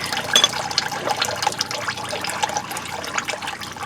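Transmission fluid draining from a 1979 Chevy K20 pickup, a steady close splattering trickle of liquid pouring down continuously without a break, with no talking.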